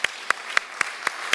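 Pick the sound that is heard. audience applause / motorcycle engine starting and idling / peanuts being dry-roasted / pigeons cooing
audience applause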